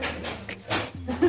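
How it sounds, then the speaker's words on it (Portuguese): Small puppies, one only three months old, pant in quick short breaths and let out thin whimpers up close, mixed with brief murmurs of a voice nearby. "Esse aí são os meus cachorrinhos."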